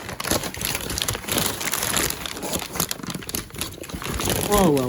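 Packaging crinkles and tears as a parcel of Hybrid Racing parts for a Honda Civic FN2 with a K20 engine is unwrapped, close and continuous rustling and crunching over a low background rumble.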